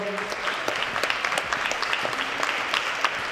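A crowd claps and cheers continuously, a dense wash of applause with scattered whoops, lively and close.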